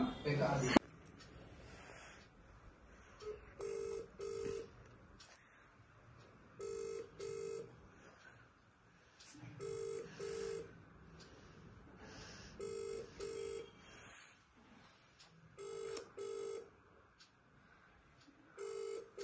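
A repeating electronic ringing tone, about six short double bursts spaced evenly apart, steady and moderately loud against a faint background hum.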